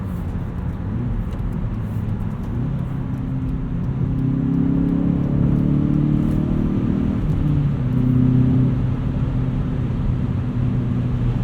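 A 2016 Hyundai Veloster Rally Edition with a six-speed manual drives along, its engine and road noise a steady low drone that swells a little midway as it pulls, heard close from inside the cabin.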